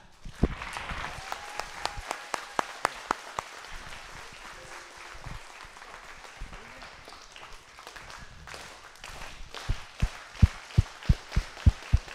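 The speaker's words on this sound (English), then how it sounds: "Let's clap it up one more time with Eli." Children and adults clap at a kids' football draft event in a public library, the applause starting as scattered claps, thinning, then building into a loud, rhythmic unison clapping toward the end.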